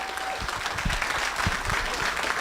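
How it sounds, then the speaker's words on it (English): An audience in Spokane Valley claps steadily, a dense patter of many hands filling the room at moderate volume, with no voices over it. "Let's give him a huge Spokane Valley round of applause."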